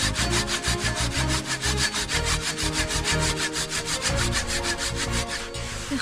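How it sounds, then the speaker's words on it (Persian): A hand saw cutting through a hard wooden stick in fast, even back-and-forth strokes, loud and close, continuing for several seconds with no voices. "با اره بیام امتحان کنم ببینم"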